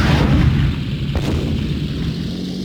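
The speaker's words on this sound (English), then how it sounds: "The rockets fire up, polluting black console." Rockets firing in the World War II aircraft video game Beyond Pearl Harbor: Pacific Warriors, a dense, rumbling, continuous roar of launches and blasts, with one sharper crack partway through, loud and close.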